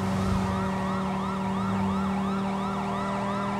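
Wailing siren from lights fitted to a car driven like a police car in a driving video game, rising and falling in quick repeated sweeps over a steady engine hum, close and prominent.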